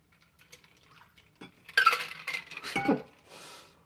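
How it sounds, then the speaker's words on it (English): A mixed cocktail is strained into cocktail glasses: a short burst of liquid pouring with light clinks of glass and metal, close and fairly quiet, lasting a couple of seconds after faint handling sounds. "And then straining that into our cocktail glasses here."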